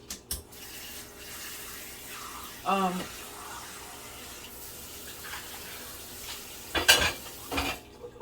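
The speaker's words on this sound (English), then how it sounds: "We're gonna add some more water." Water pours into a pot of stewed beans and potatoes in a home kitchen, a short splash followed by stirring and clinking of utensils against the pot, moderately close with low background noise.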